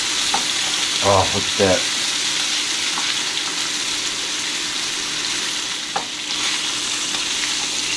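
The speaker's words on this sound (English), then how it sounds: "we're going to flip this over and sear the other side" Wild hog meat sears in a hot pan with a strong, continuous sizzle and crackle, with a few brief clanks of handling. A short exclamation is spoken over it.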